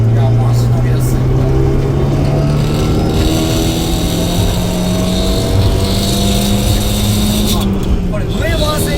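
Turbocharged Abarth 124 Spider, a lightweight front-engine rear-drive roadster with a torque-focused ignition setup, droning loudly and steadily from inside the cabin while driving, its engine note climbing gradually in pitch as it pulls through the revs.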